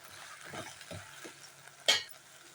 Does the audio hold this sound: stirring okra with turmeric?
yes